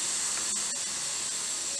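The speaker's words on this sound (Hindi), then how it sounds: "ये देखिए अब सारा प्रेशर निकल जाए तभी हम प्रेशर कुकर को खोलेंगे" A steady, fairly quiet hiss of steam escaping from a pressure cooker while cooking pav bhaji, continuous throughout with a couple of faint clicks.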